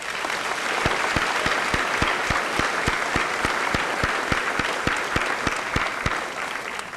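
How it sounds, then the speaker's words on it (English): At a high school senior assembly in a gym, an audience gives sustained applause for scholarship sponsors, dense clapping with a regular booming thump running through it, like a rhythmic stomp or bass beat. "I'd like to give these people a nice round of applause"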